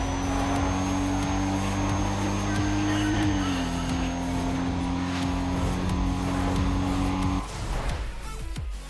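Toyota Supra engine roaring in Need for Speed ProStreet, a loud sustained engine drone that holds steady, shifts pitch slightly midway, then drops abruptly near the end.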